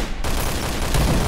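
K1 rifle fire in the shooting game Point Blank, a short burst of dense, noisy gunshots at moderate volume with no speech.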